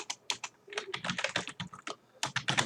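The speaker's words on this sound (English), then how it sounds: "So let's type in actions," Fingers type on a computer keyboard in brisk, close bursts of keystrokes, with one short pause between flurries.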